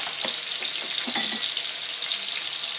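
Turkey wings searing in a frying pan, glazed with root beer, molasses and soy sauce, giving a continuous close sizzle with a few soft pops and stirring sounds.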